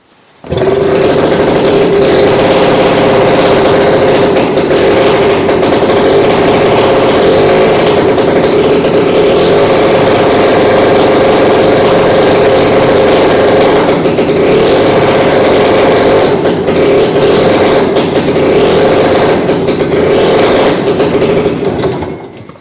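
The small pony starter engine of a Belarus MTZ-52 tractor runs steadily and loudly without a break, with a continuous droning hum and a faint rattle throughout.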